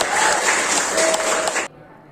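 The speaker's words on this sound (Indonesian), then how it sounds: "Mari kita kasih aplaus buat Mas Fajar" A classroom of students applauds Mas Fajar, a dense burst of clapping that lasts about a second and a half and then stops abruptly, leaving quiet room tone.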